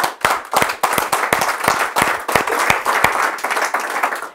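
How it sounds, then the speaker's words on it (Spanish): A church congregation claps in a fast, uneven burst of hand claps, loud and close, with individual sharp claps standing out from the group as the applause continues. "Un aplauso al Señor"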